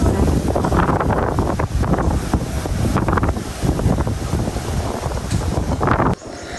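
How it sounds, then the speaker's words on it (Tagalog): Loud, strong wind roars against the microphone in continuous heavy gusts on a rooftop, then drops off abruptly near the end. "Grabe, lakas po ng hangin."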